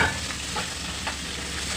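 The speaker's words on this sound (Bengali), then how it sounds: "ট্যাংরা মাছটা প্রথমে লবণ হলুদ দিয়ে সুন্দর করে মেখে ভাজবো।" Tengra fish rubbed with salt and turmeric frying in hot oil gives a steady, close sizzle with a few faint stirring ticks. No one speaks.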